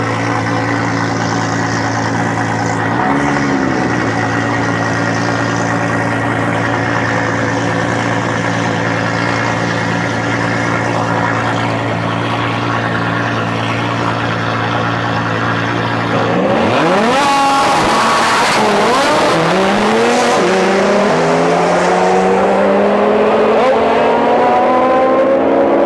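The Silverback Camaro race car, running a 5-inch titanium exhaust with no muffler at Rocky Mountain Raceweek, idles loud and lumpy up close, then revs hard with rising, crackling bursts for several seconds.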